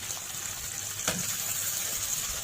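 Water poured into a pan of potato gravy being cooked with spices, a steady faint liquid rush throughout with a brief splashy burst near the middle.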